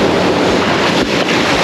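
Ocean surf rolls onto a beach where someone stands ankle deep casting into the foam, a loud continuous wash of breaking water mixed with heavy wind rumble on the microphone.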